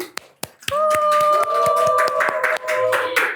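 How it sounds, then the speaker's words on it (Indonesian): Sharp hand claps open a podcast intro: a couple of isolated claps, then more claps scattered over sustained bright tones, fairly close and loud. "Tepuk tangan dong"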